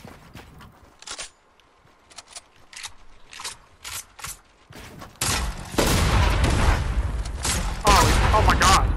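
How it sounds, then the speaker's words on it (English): Explosions from a long-range grenade launcher in a battle royale game, with several rounds blowing up on impact. The blasts come in dense, loud bursts over the second half, after quieter sharp clicks and brief shots. "I don't know how this grenade launcher works. It's a really long range one."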